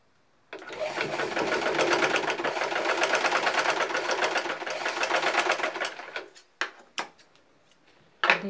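A sewing machine stitches a shirt collar in one steady run of rapid needle clatter lasting several seconds, close and clear, then stops, followed by a few short bursts and clicks.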